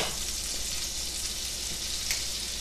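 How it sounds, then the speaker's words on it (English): Butter sizzling in a tablespoon of hot olive oil in a pan, a steady loud bright hiss with faint crackles and a brief spatter near the end, no talking. "To the tablespoon of olive oil, I want to add a tablespoon of butter."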